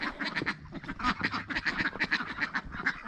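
A flock of domestic ducks and their guardian geese in a snowy yard quack and honk continuously, an agitated overlapping chorus of rapid calls heard close and steady throughout.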